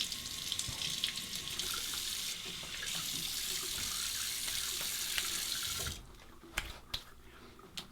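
Water streams steadily from a tap for about six seconds while a razor is rinsed, a broad hiss that then cuts off, leaving a few faint taps and clicks.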